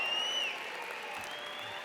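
Graduation-ceremony crowd at the UIC College of Medicine 2017 commencement keeps applauding, a steady blur of clapping with a shrill whistle rising briefly above it at the start.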